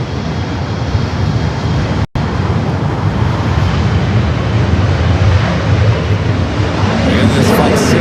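KLM airliner on approach to runway 25 Left on the south side of LAX: loud, continuous jet engine roar with a brief dropout partway, building slightly toward the end, with no voices.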